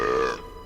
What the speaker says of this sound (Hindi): छी, इसका डकार तो पादर के पात से भी गंदा है।